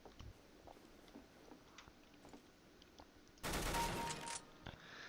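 Gunfire in the Counter-Strike: Global Offensive video game, Arms Race mode: faint scattered clicks and shots at first, then a loud, dense burst of rapid automatic fire lasting about a second, followed by quieter scattered shots.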